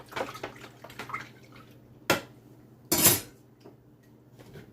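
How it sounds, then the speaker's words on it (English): Jamaican carrot juice with milk, cinnamon, nutmeg and overproof rum is stirred in a kitchen: light clinks and swishes, then two louder close knocks of utensil against container, each standing alone. "Mix it up."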